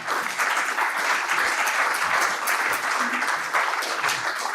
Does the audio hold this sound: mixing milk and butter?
no